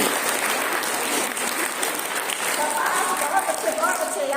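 A congregation at a Hindi church mission gathering in Malbazar, Jalpaiguri, West Bengal, claps steadily in a continuous crowded patter, with a voice faintly heard under the clapping toward the end.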